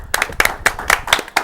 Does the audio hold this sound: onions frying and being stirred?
no